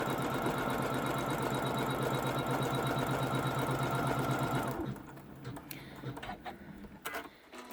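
An embroidery machine stitches a colorway onto an in-the-hoop zippered pouch, a loud, steady rapid mechanical chatter that stops abruptly partway through, leaving quiet handling noises and faint clicks.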